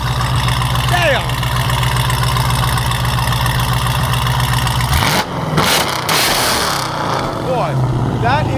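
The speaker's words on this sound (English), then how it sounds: "That is the nastiest sounding Trackhawk I've ever heard" A Jeep Trackhawk engine, still running its rear mufflers, idles with a deep steady rumble and snaps through a few revs, close and loud, while people talk excitedly over it.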